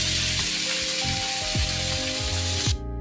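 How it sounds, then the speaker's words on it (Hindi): Shredded cabbage fries in hot oil with a dense, hissing sizzle, loud and close, under a low steady hum, cutting off abruptly near the end. "इसे अच्छे से फ्राई करेंगे हम।"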